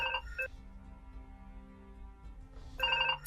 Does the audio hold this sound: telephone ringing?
yes